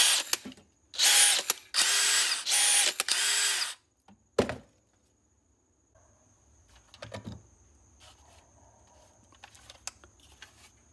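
DeWALT Atomic cordless drill running in second gear on a 2-amp battery, giving several loud sustained whirring bursts up close, followed by a sharp click and quieter scattered clunks and handling noises.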